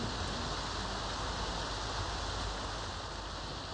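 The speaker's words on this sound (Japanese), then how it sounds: "本当に雨よ。" Steady rain falling, a dense even hiss that holds without change throughout, moderately loud and with no voices.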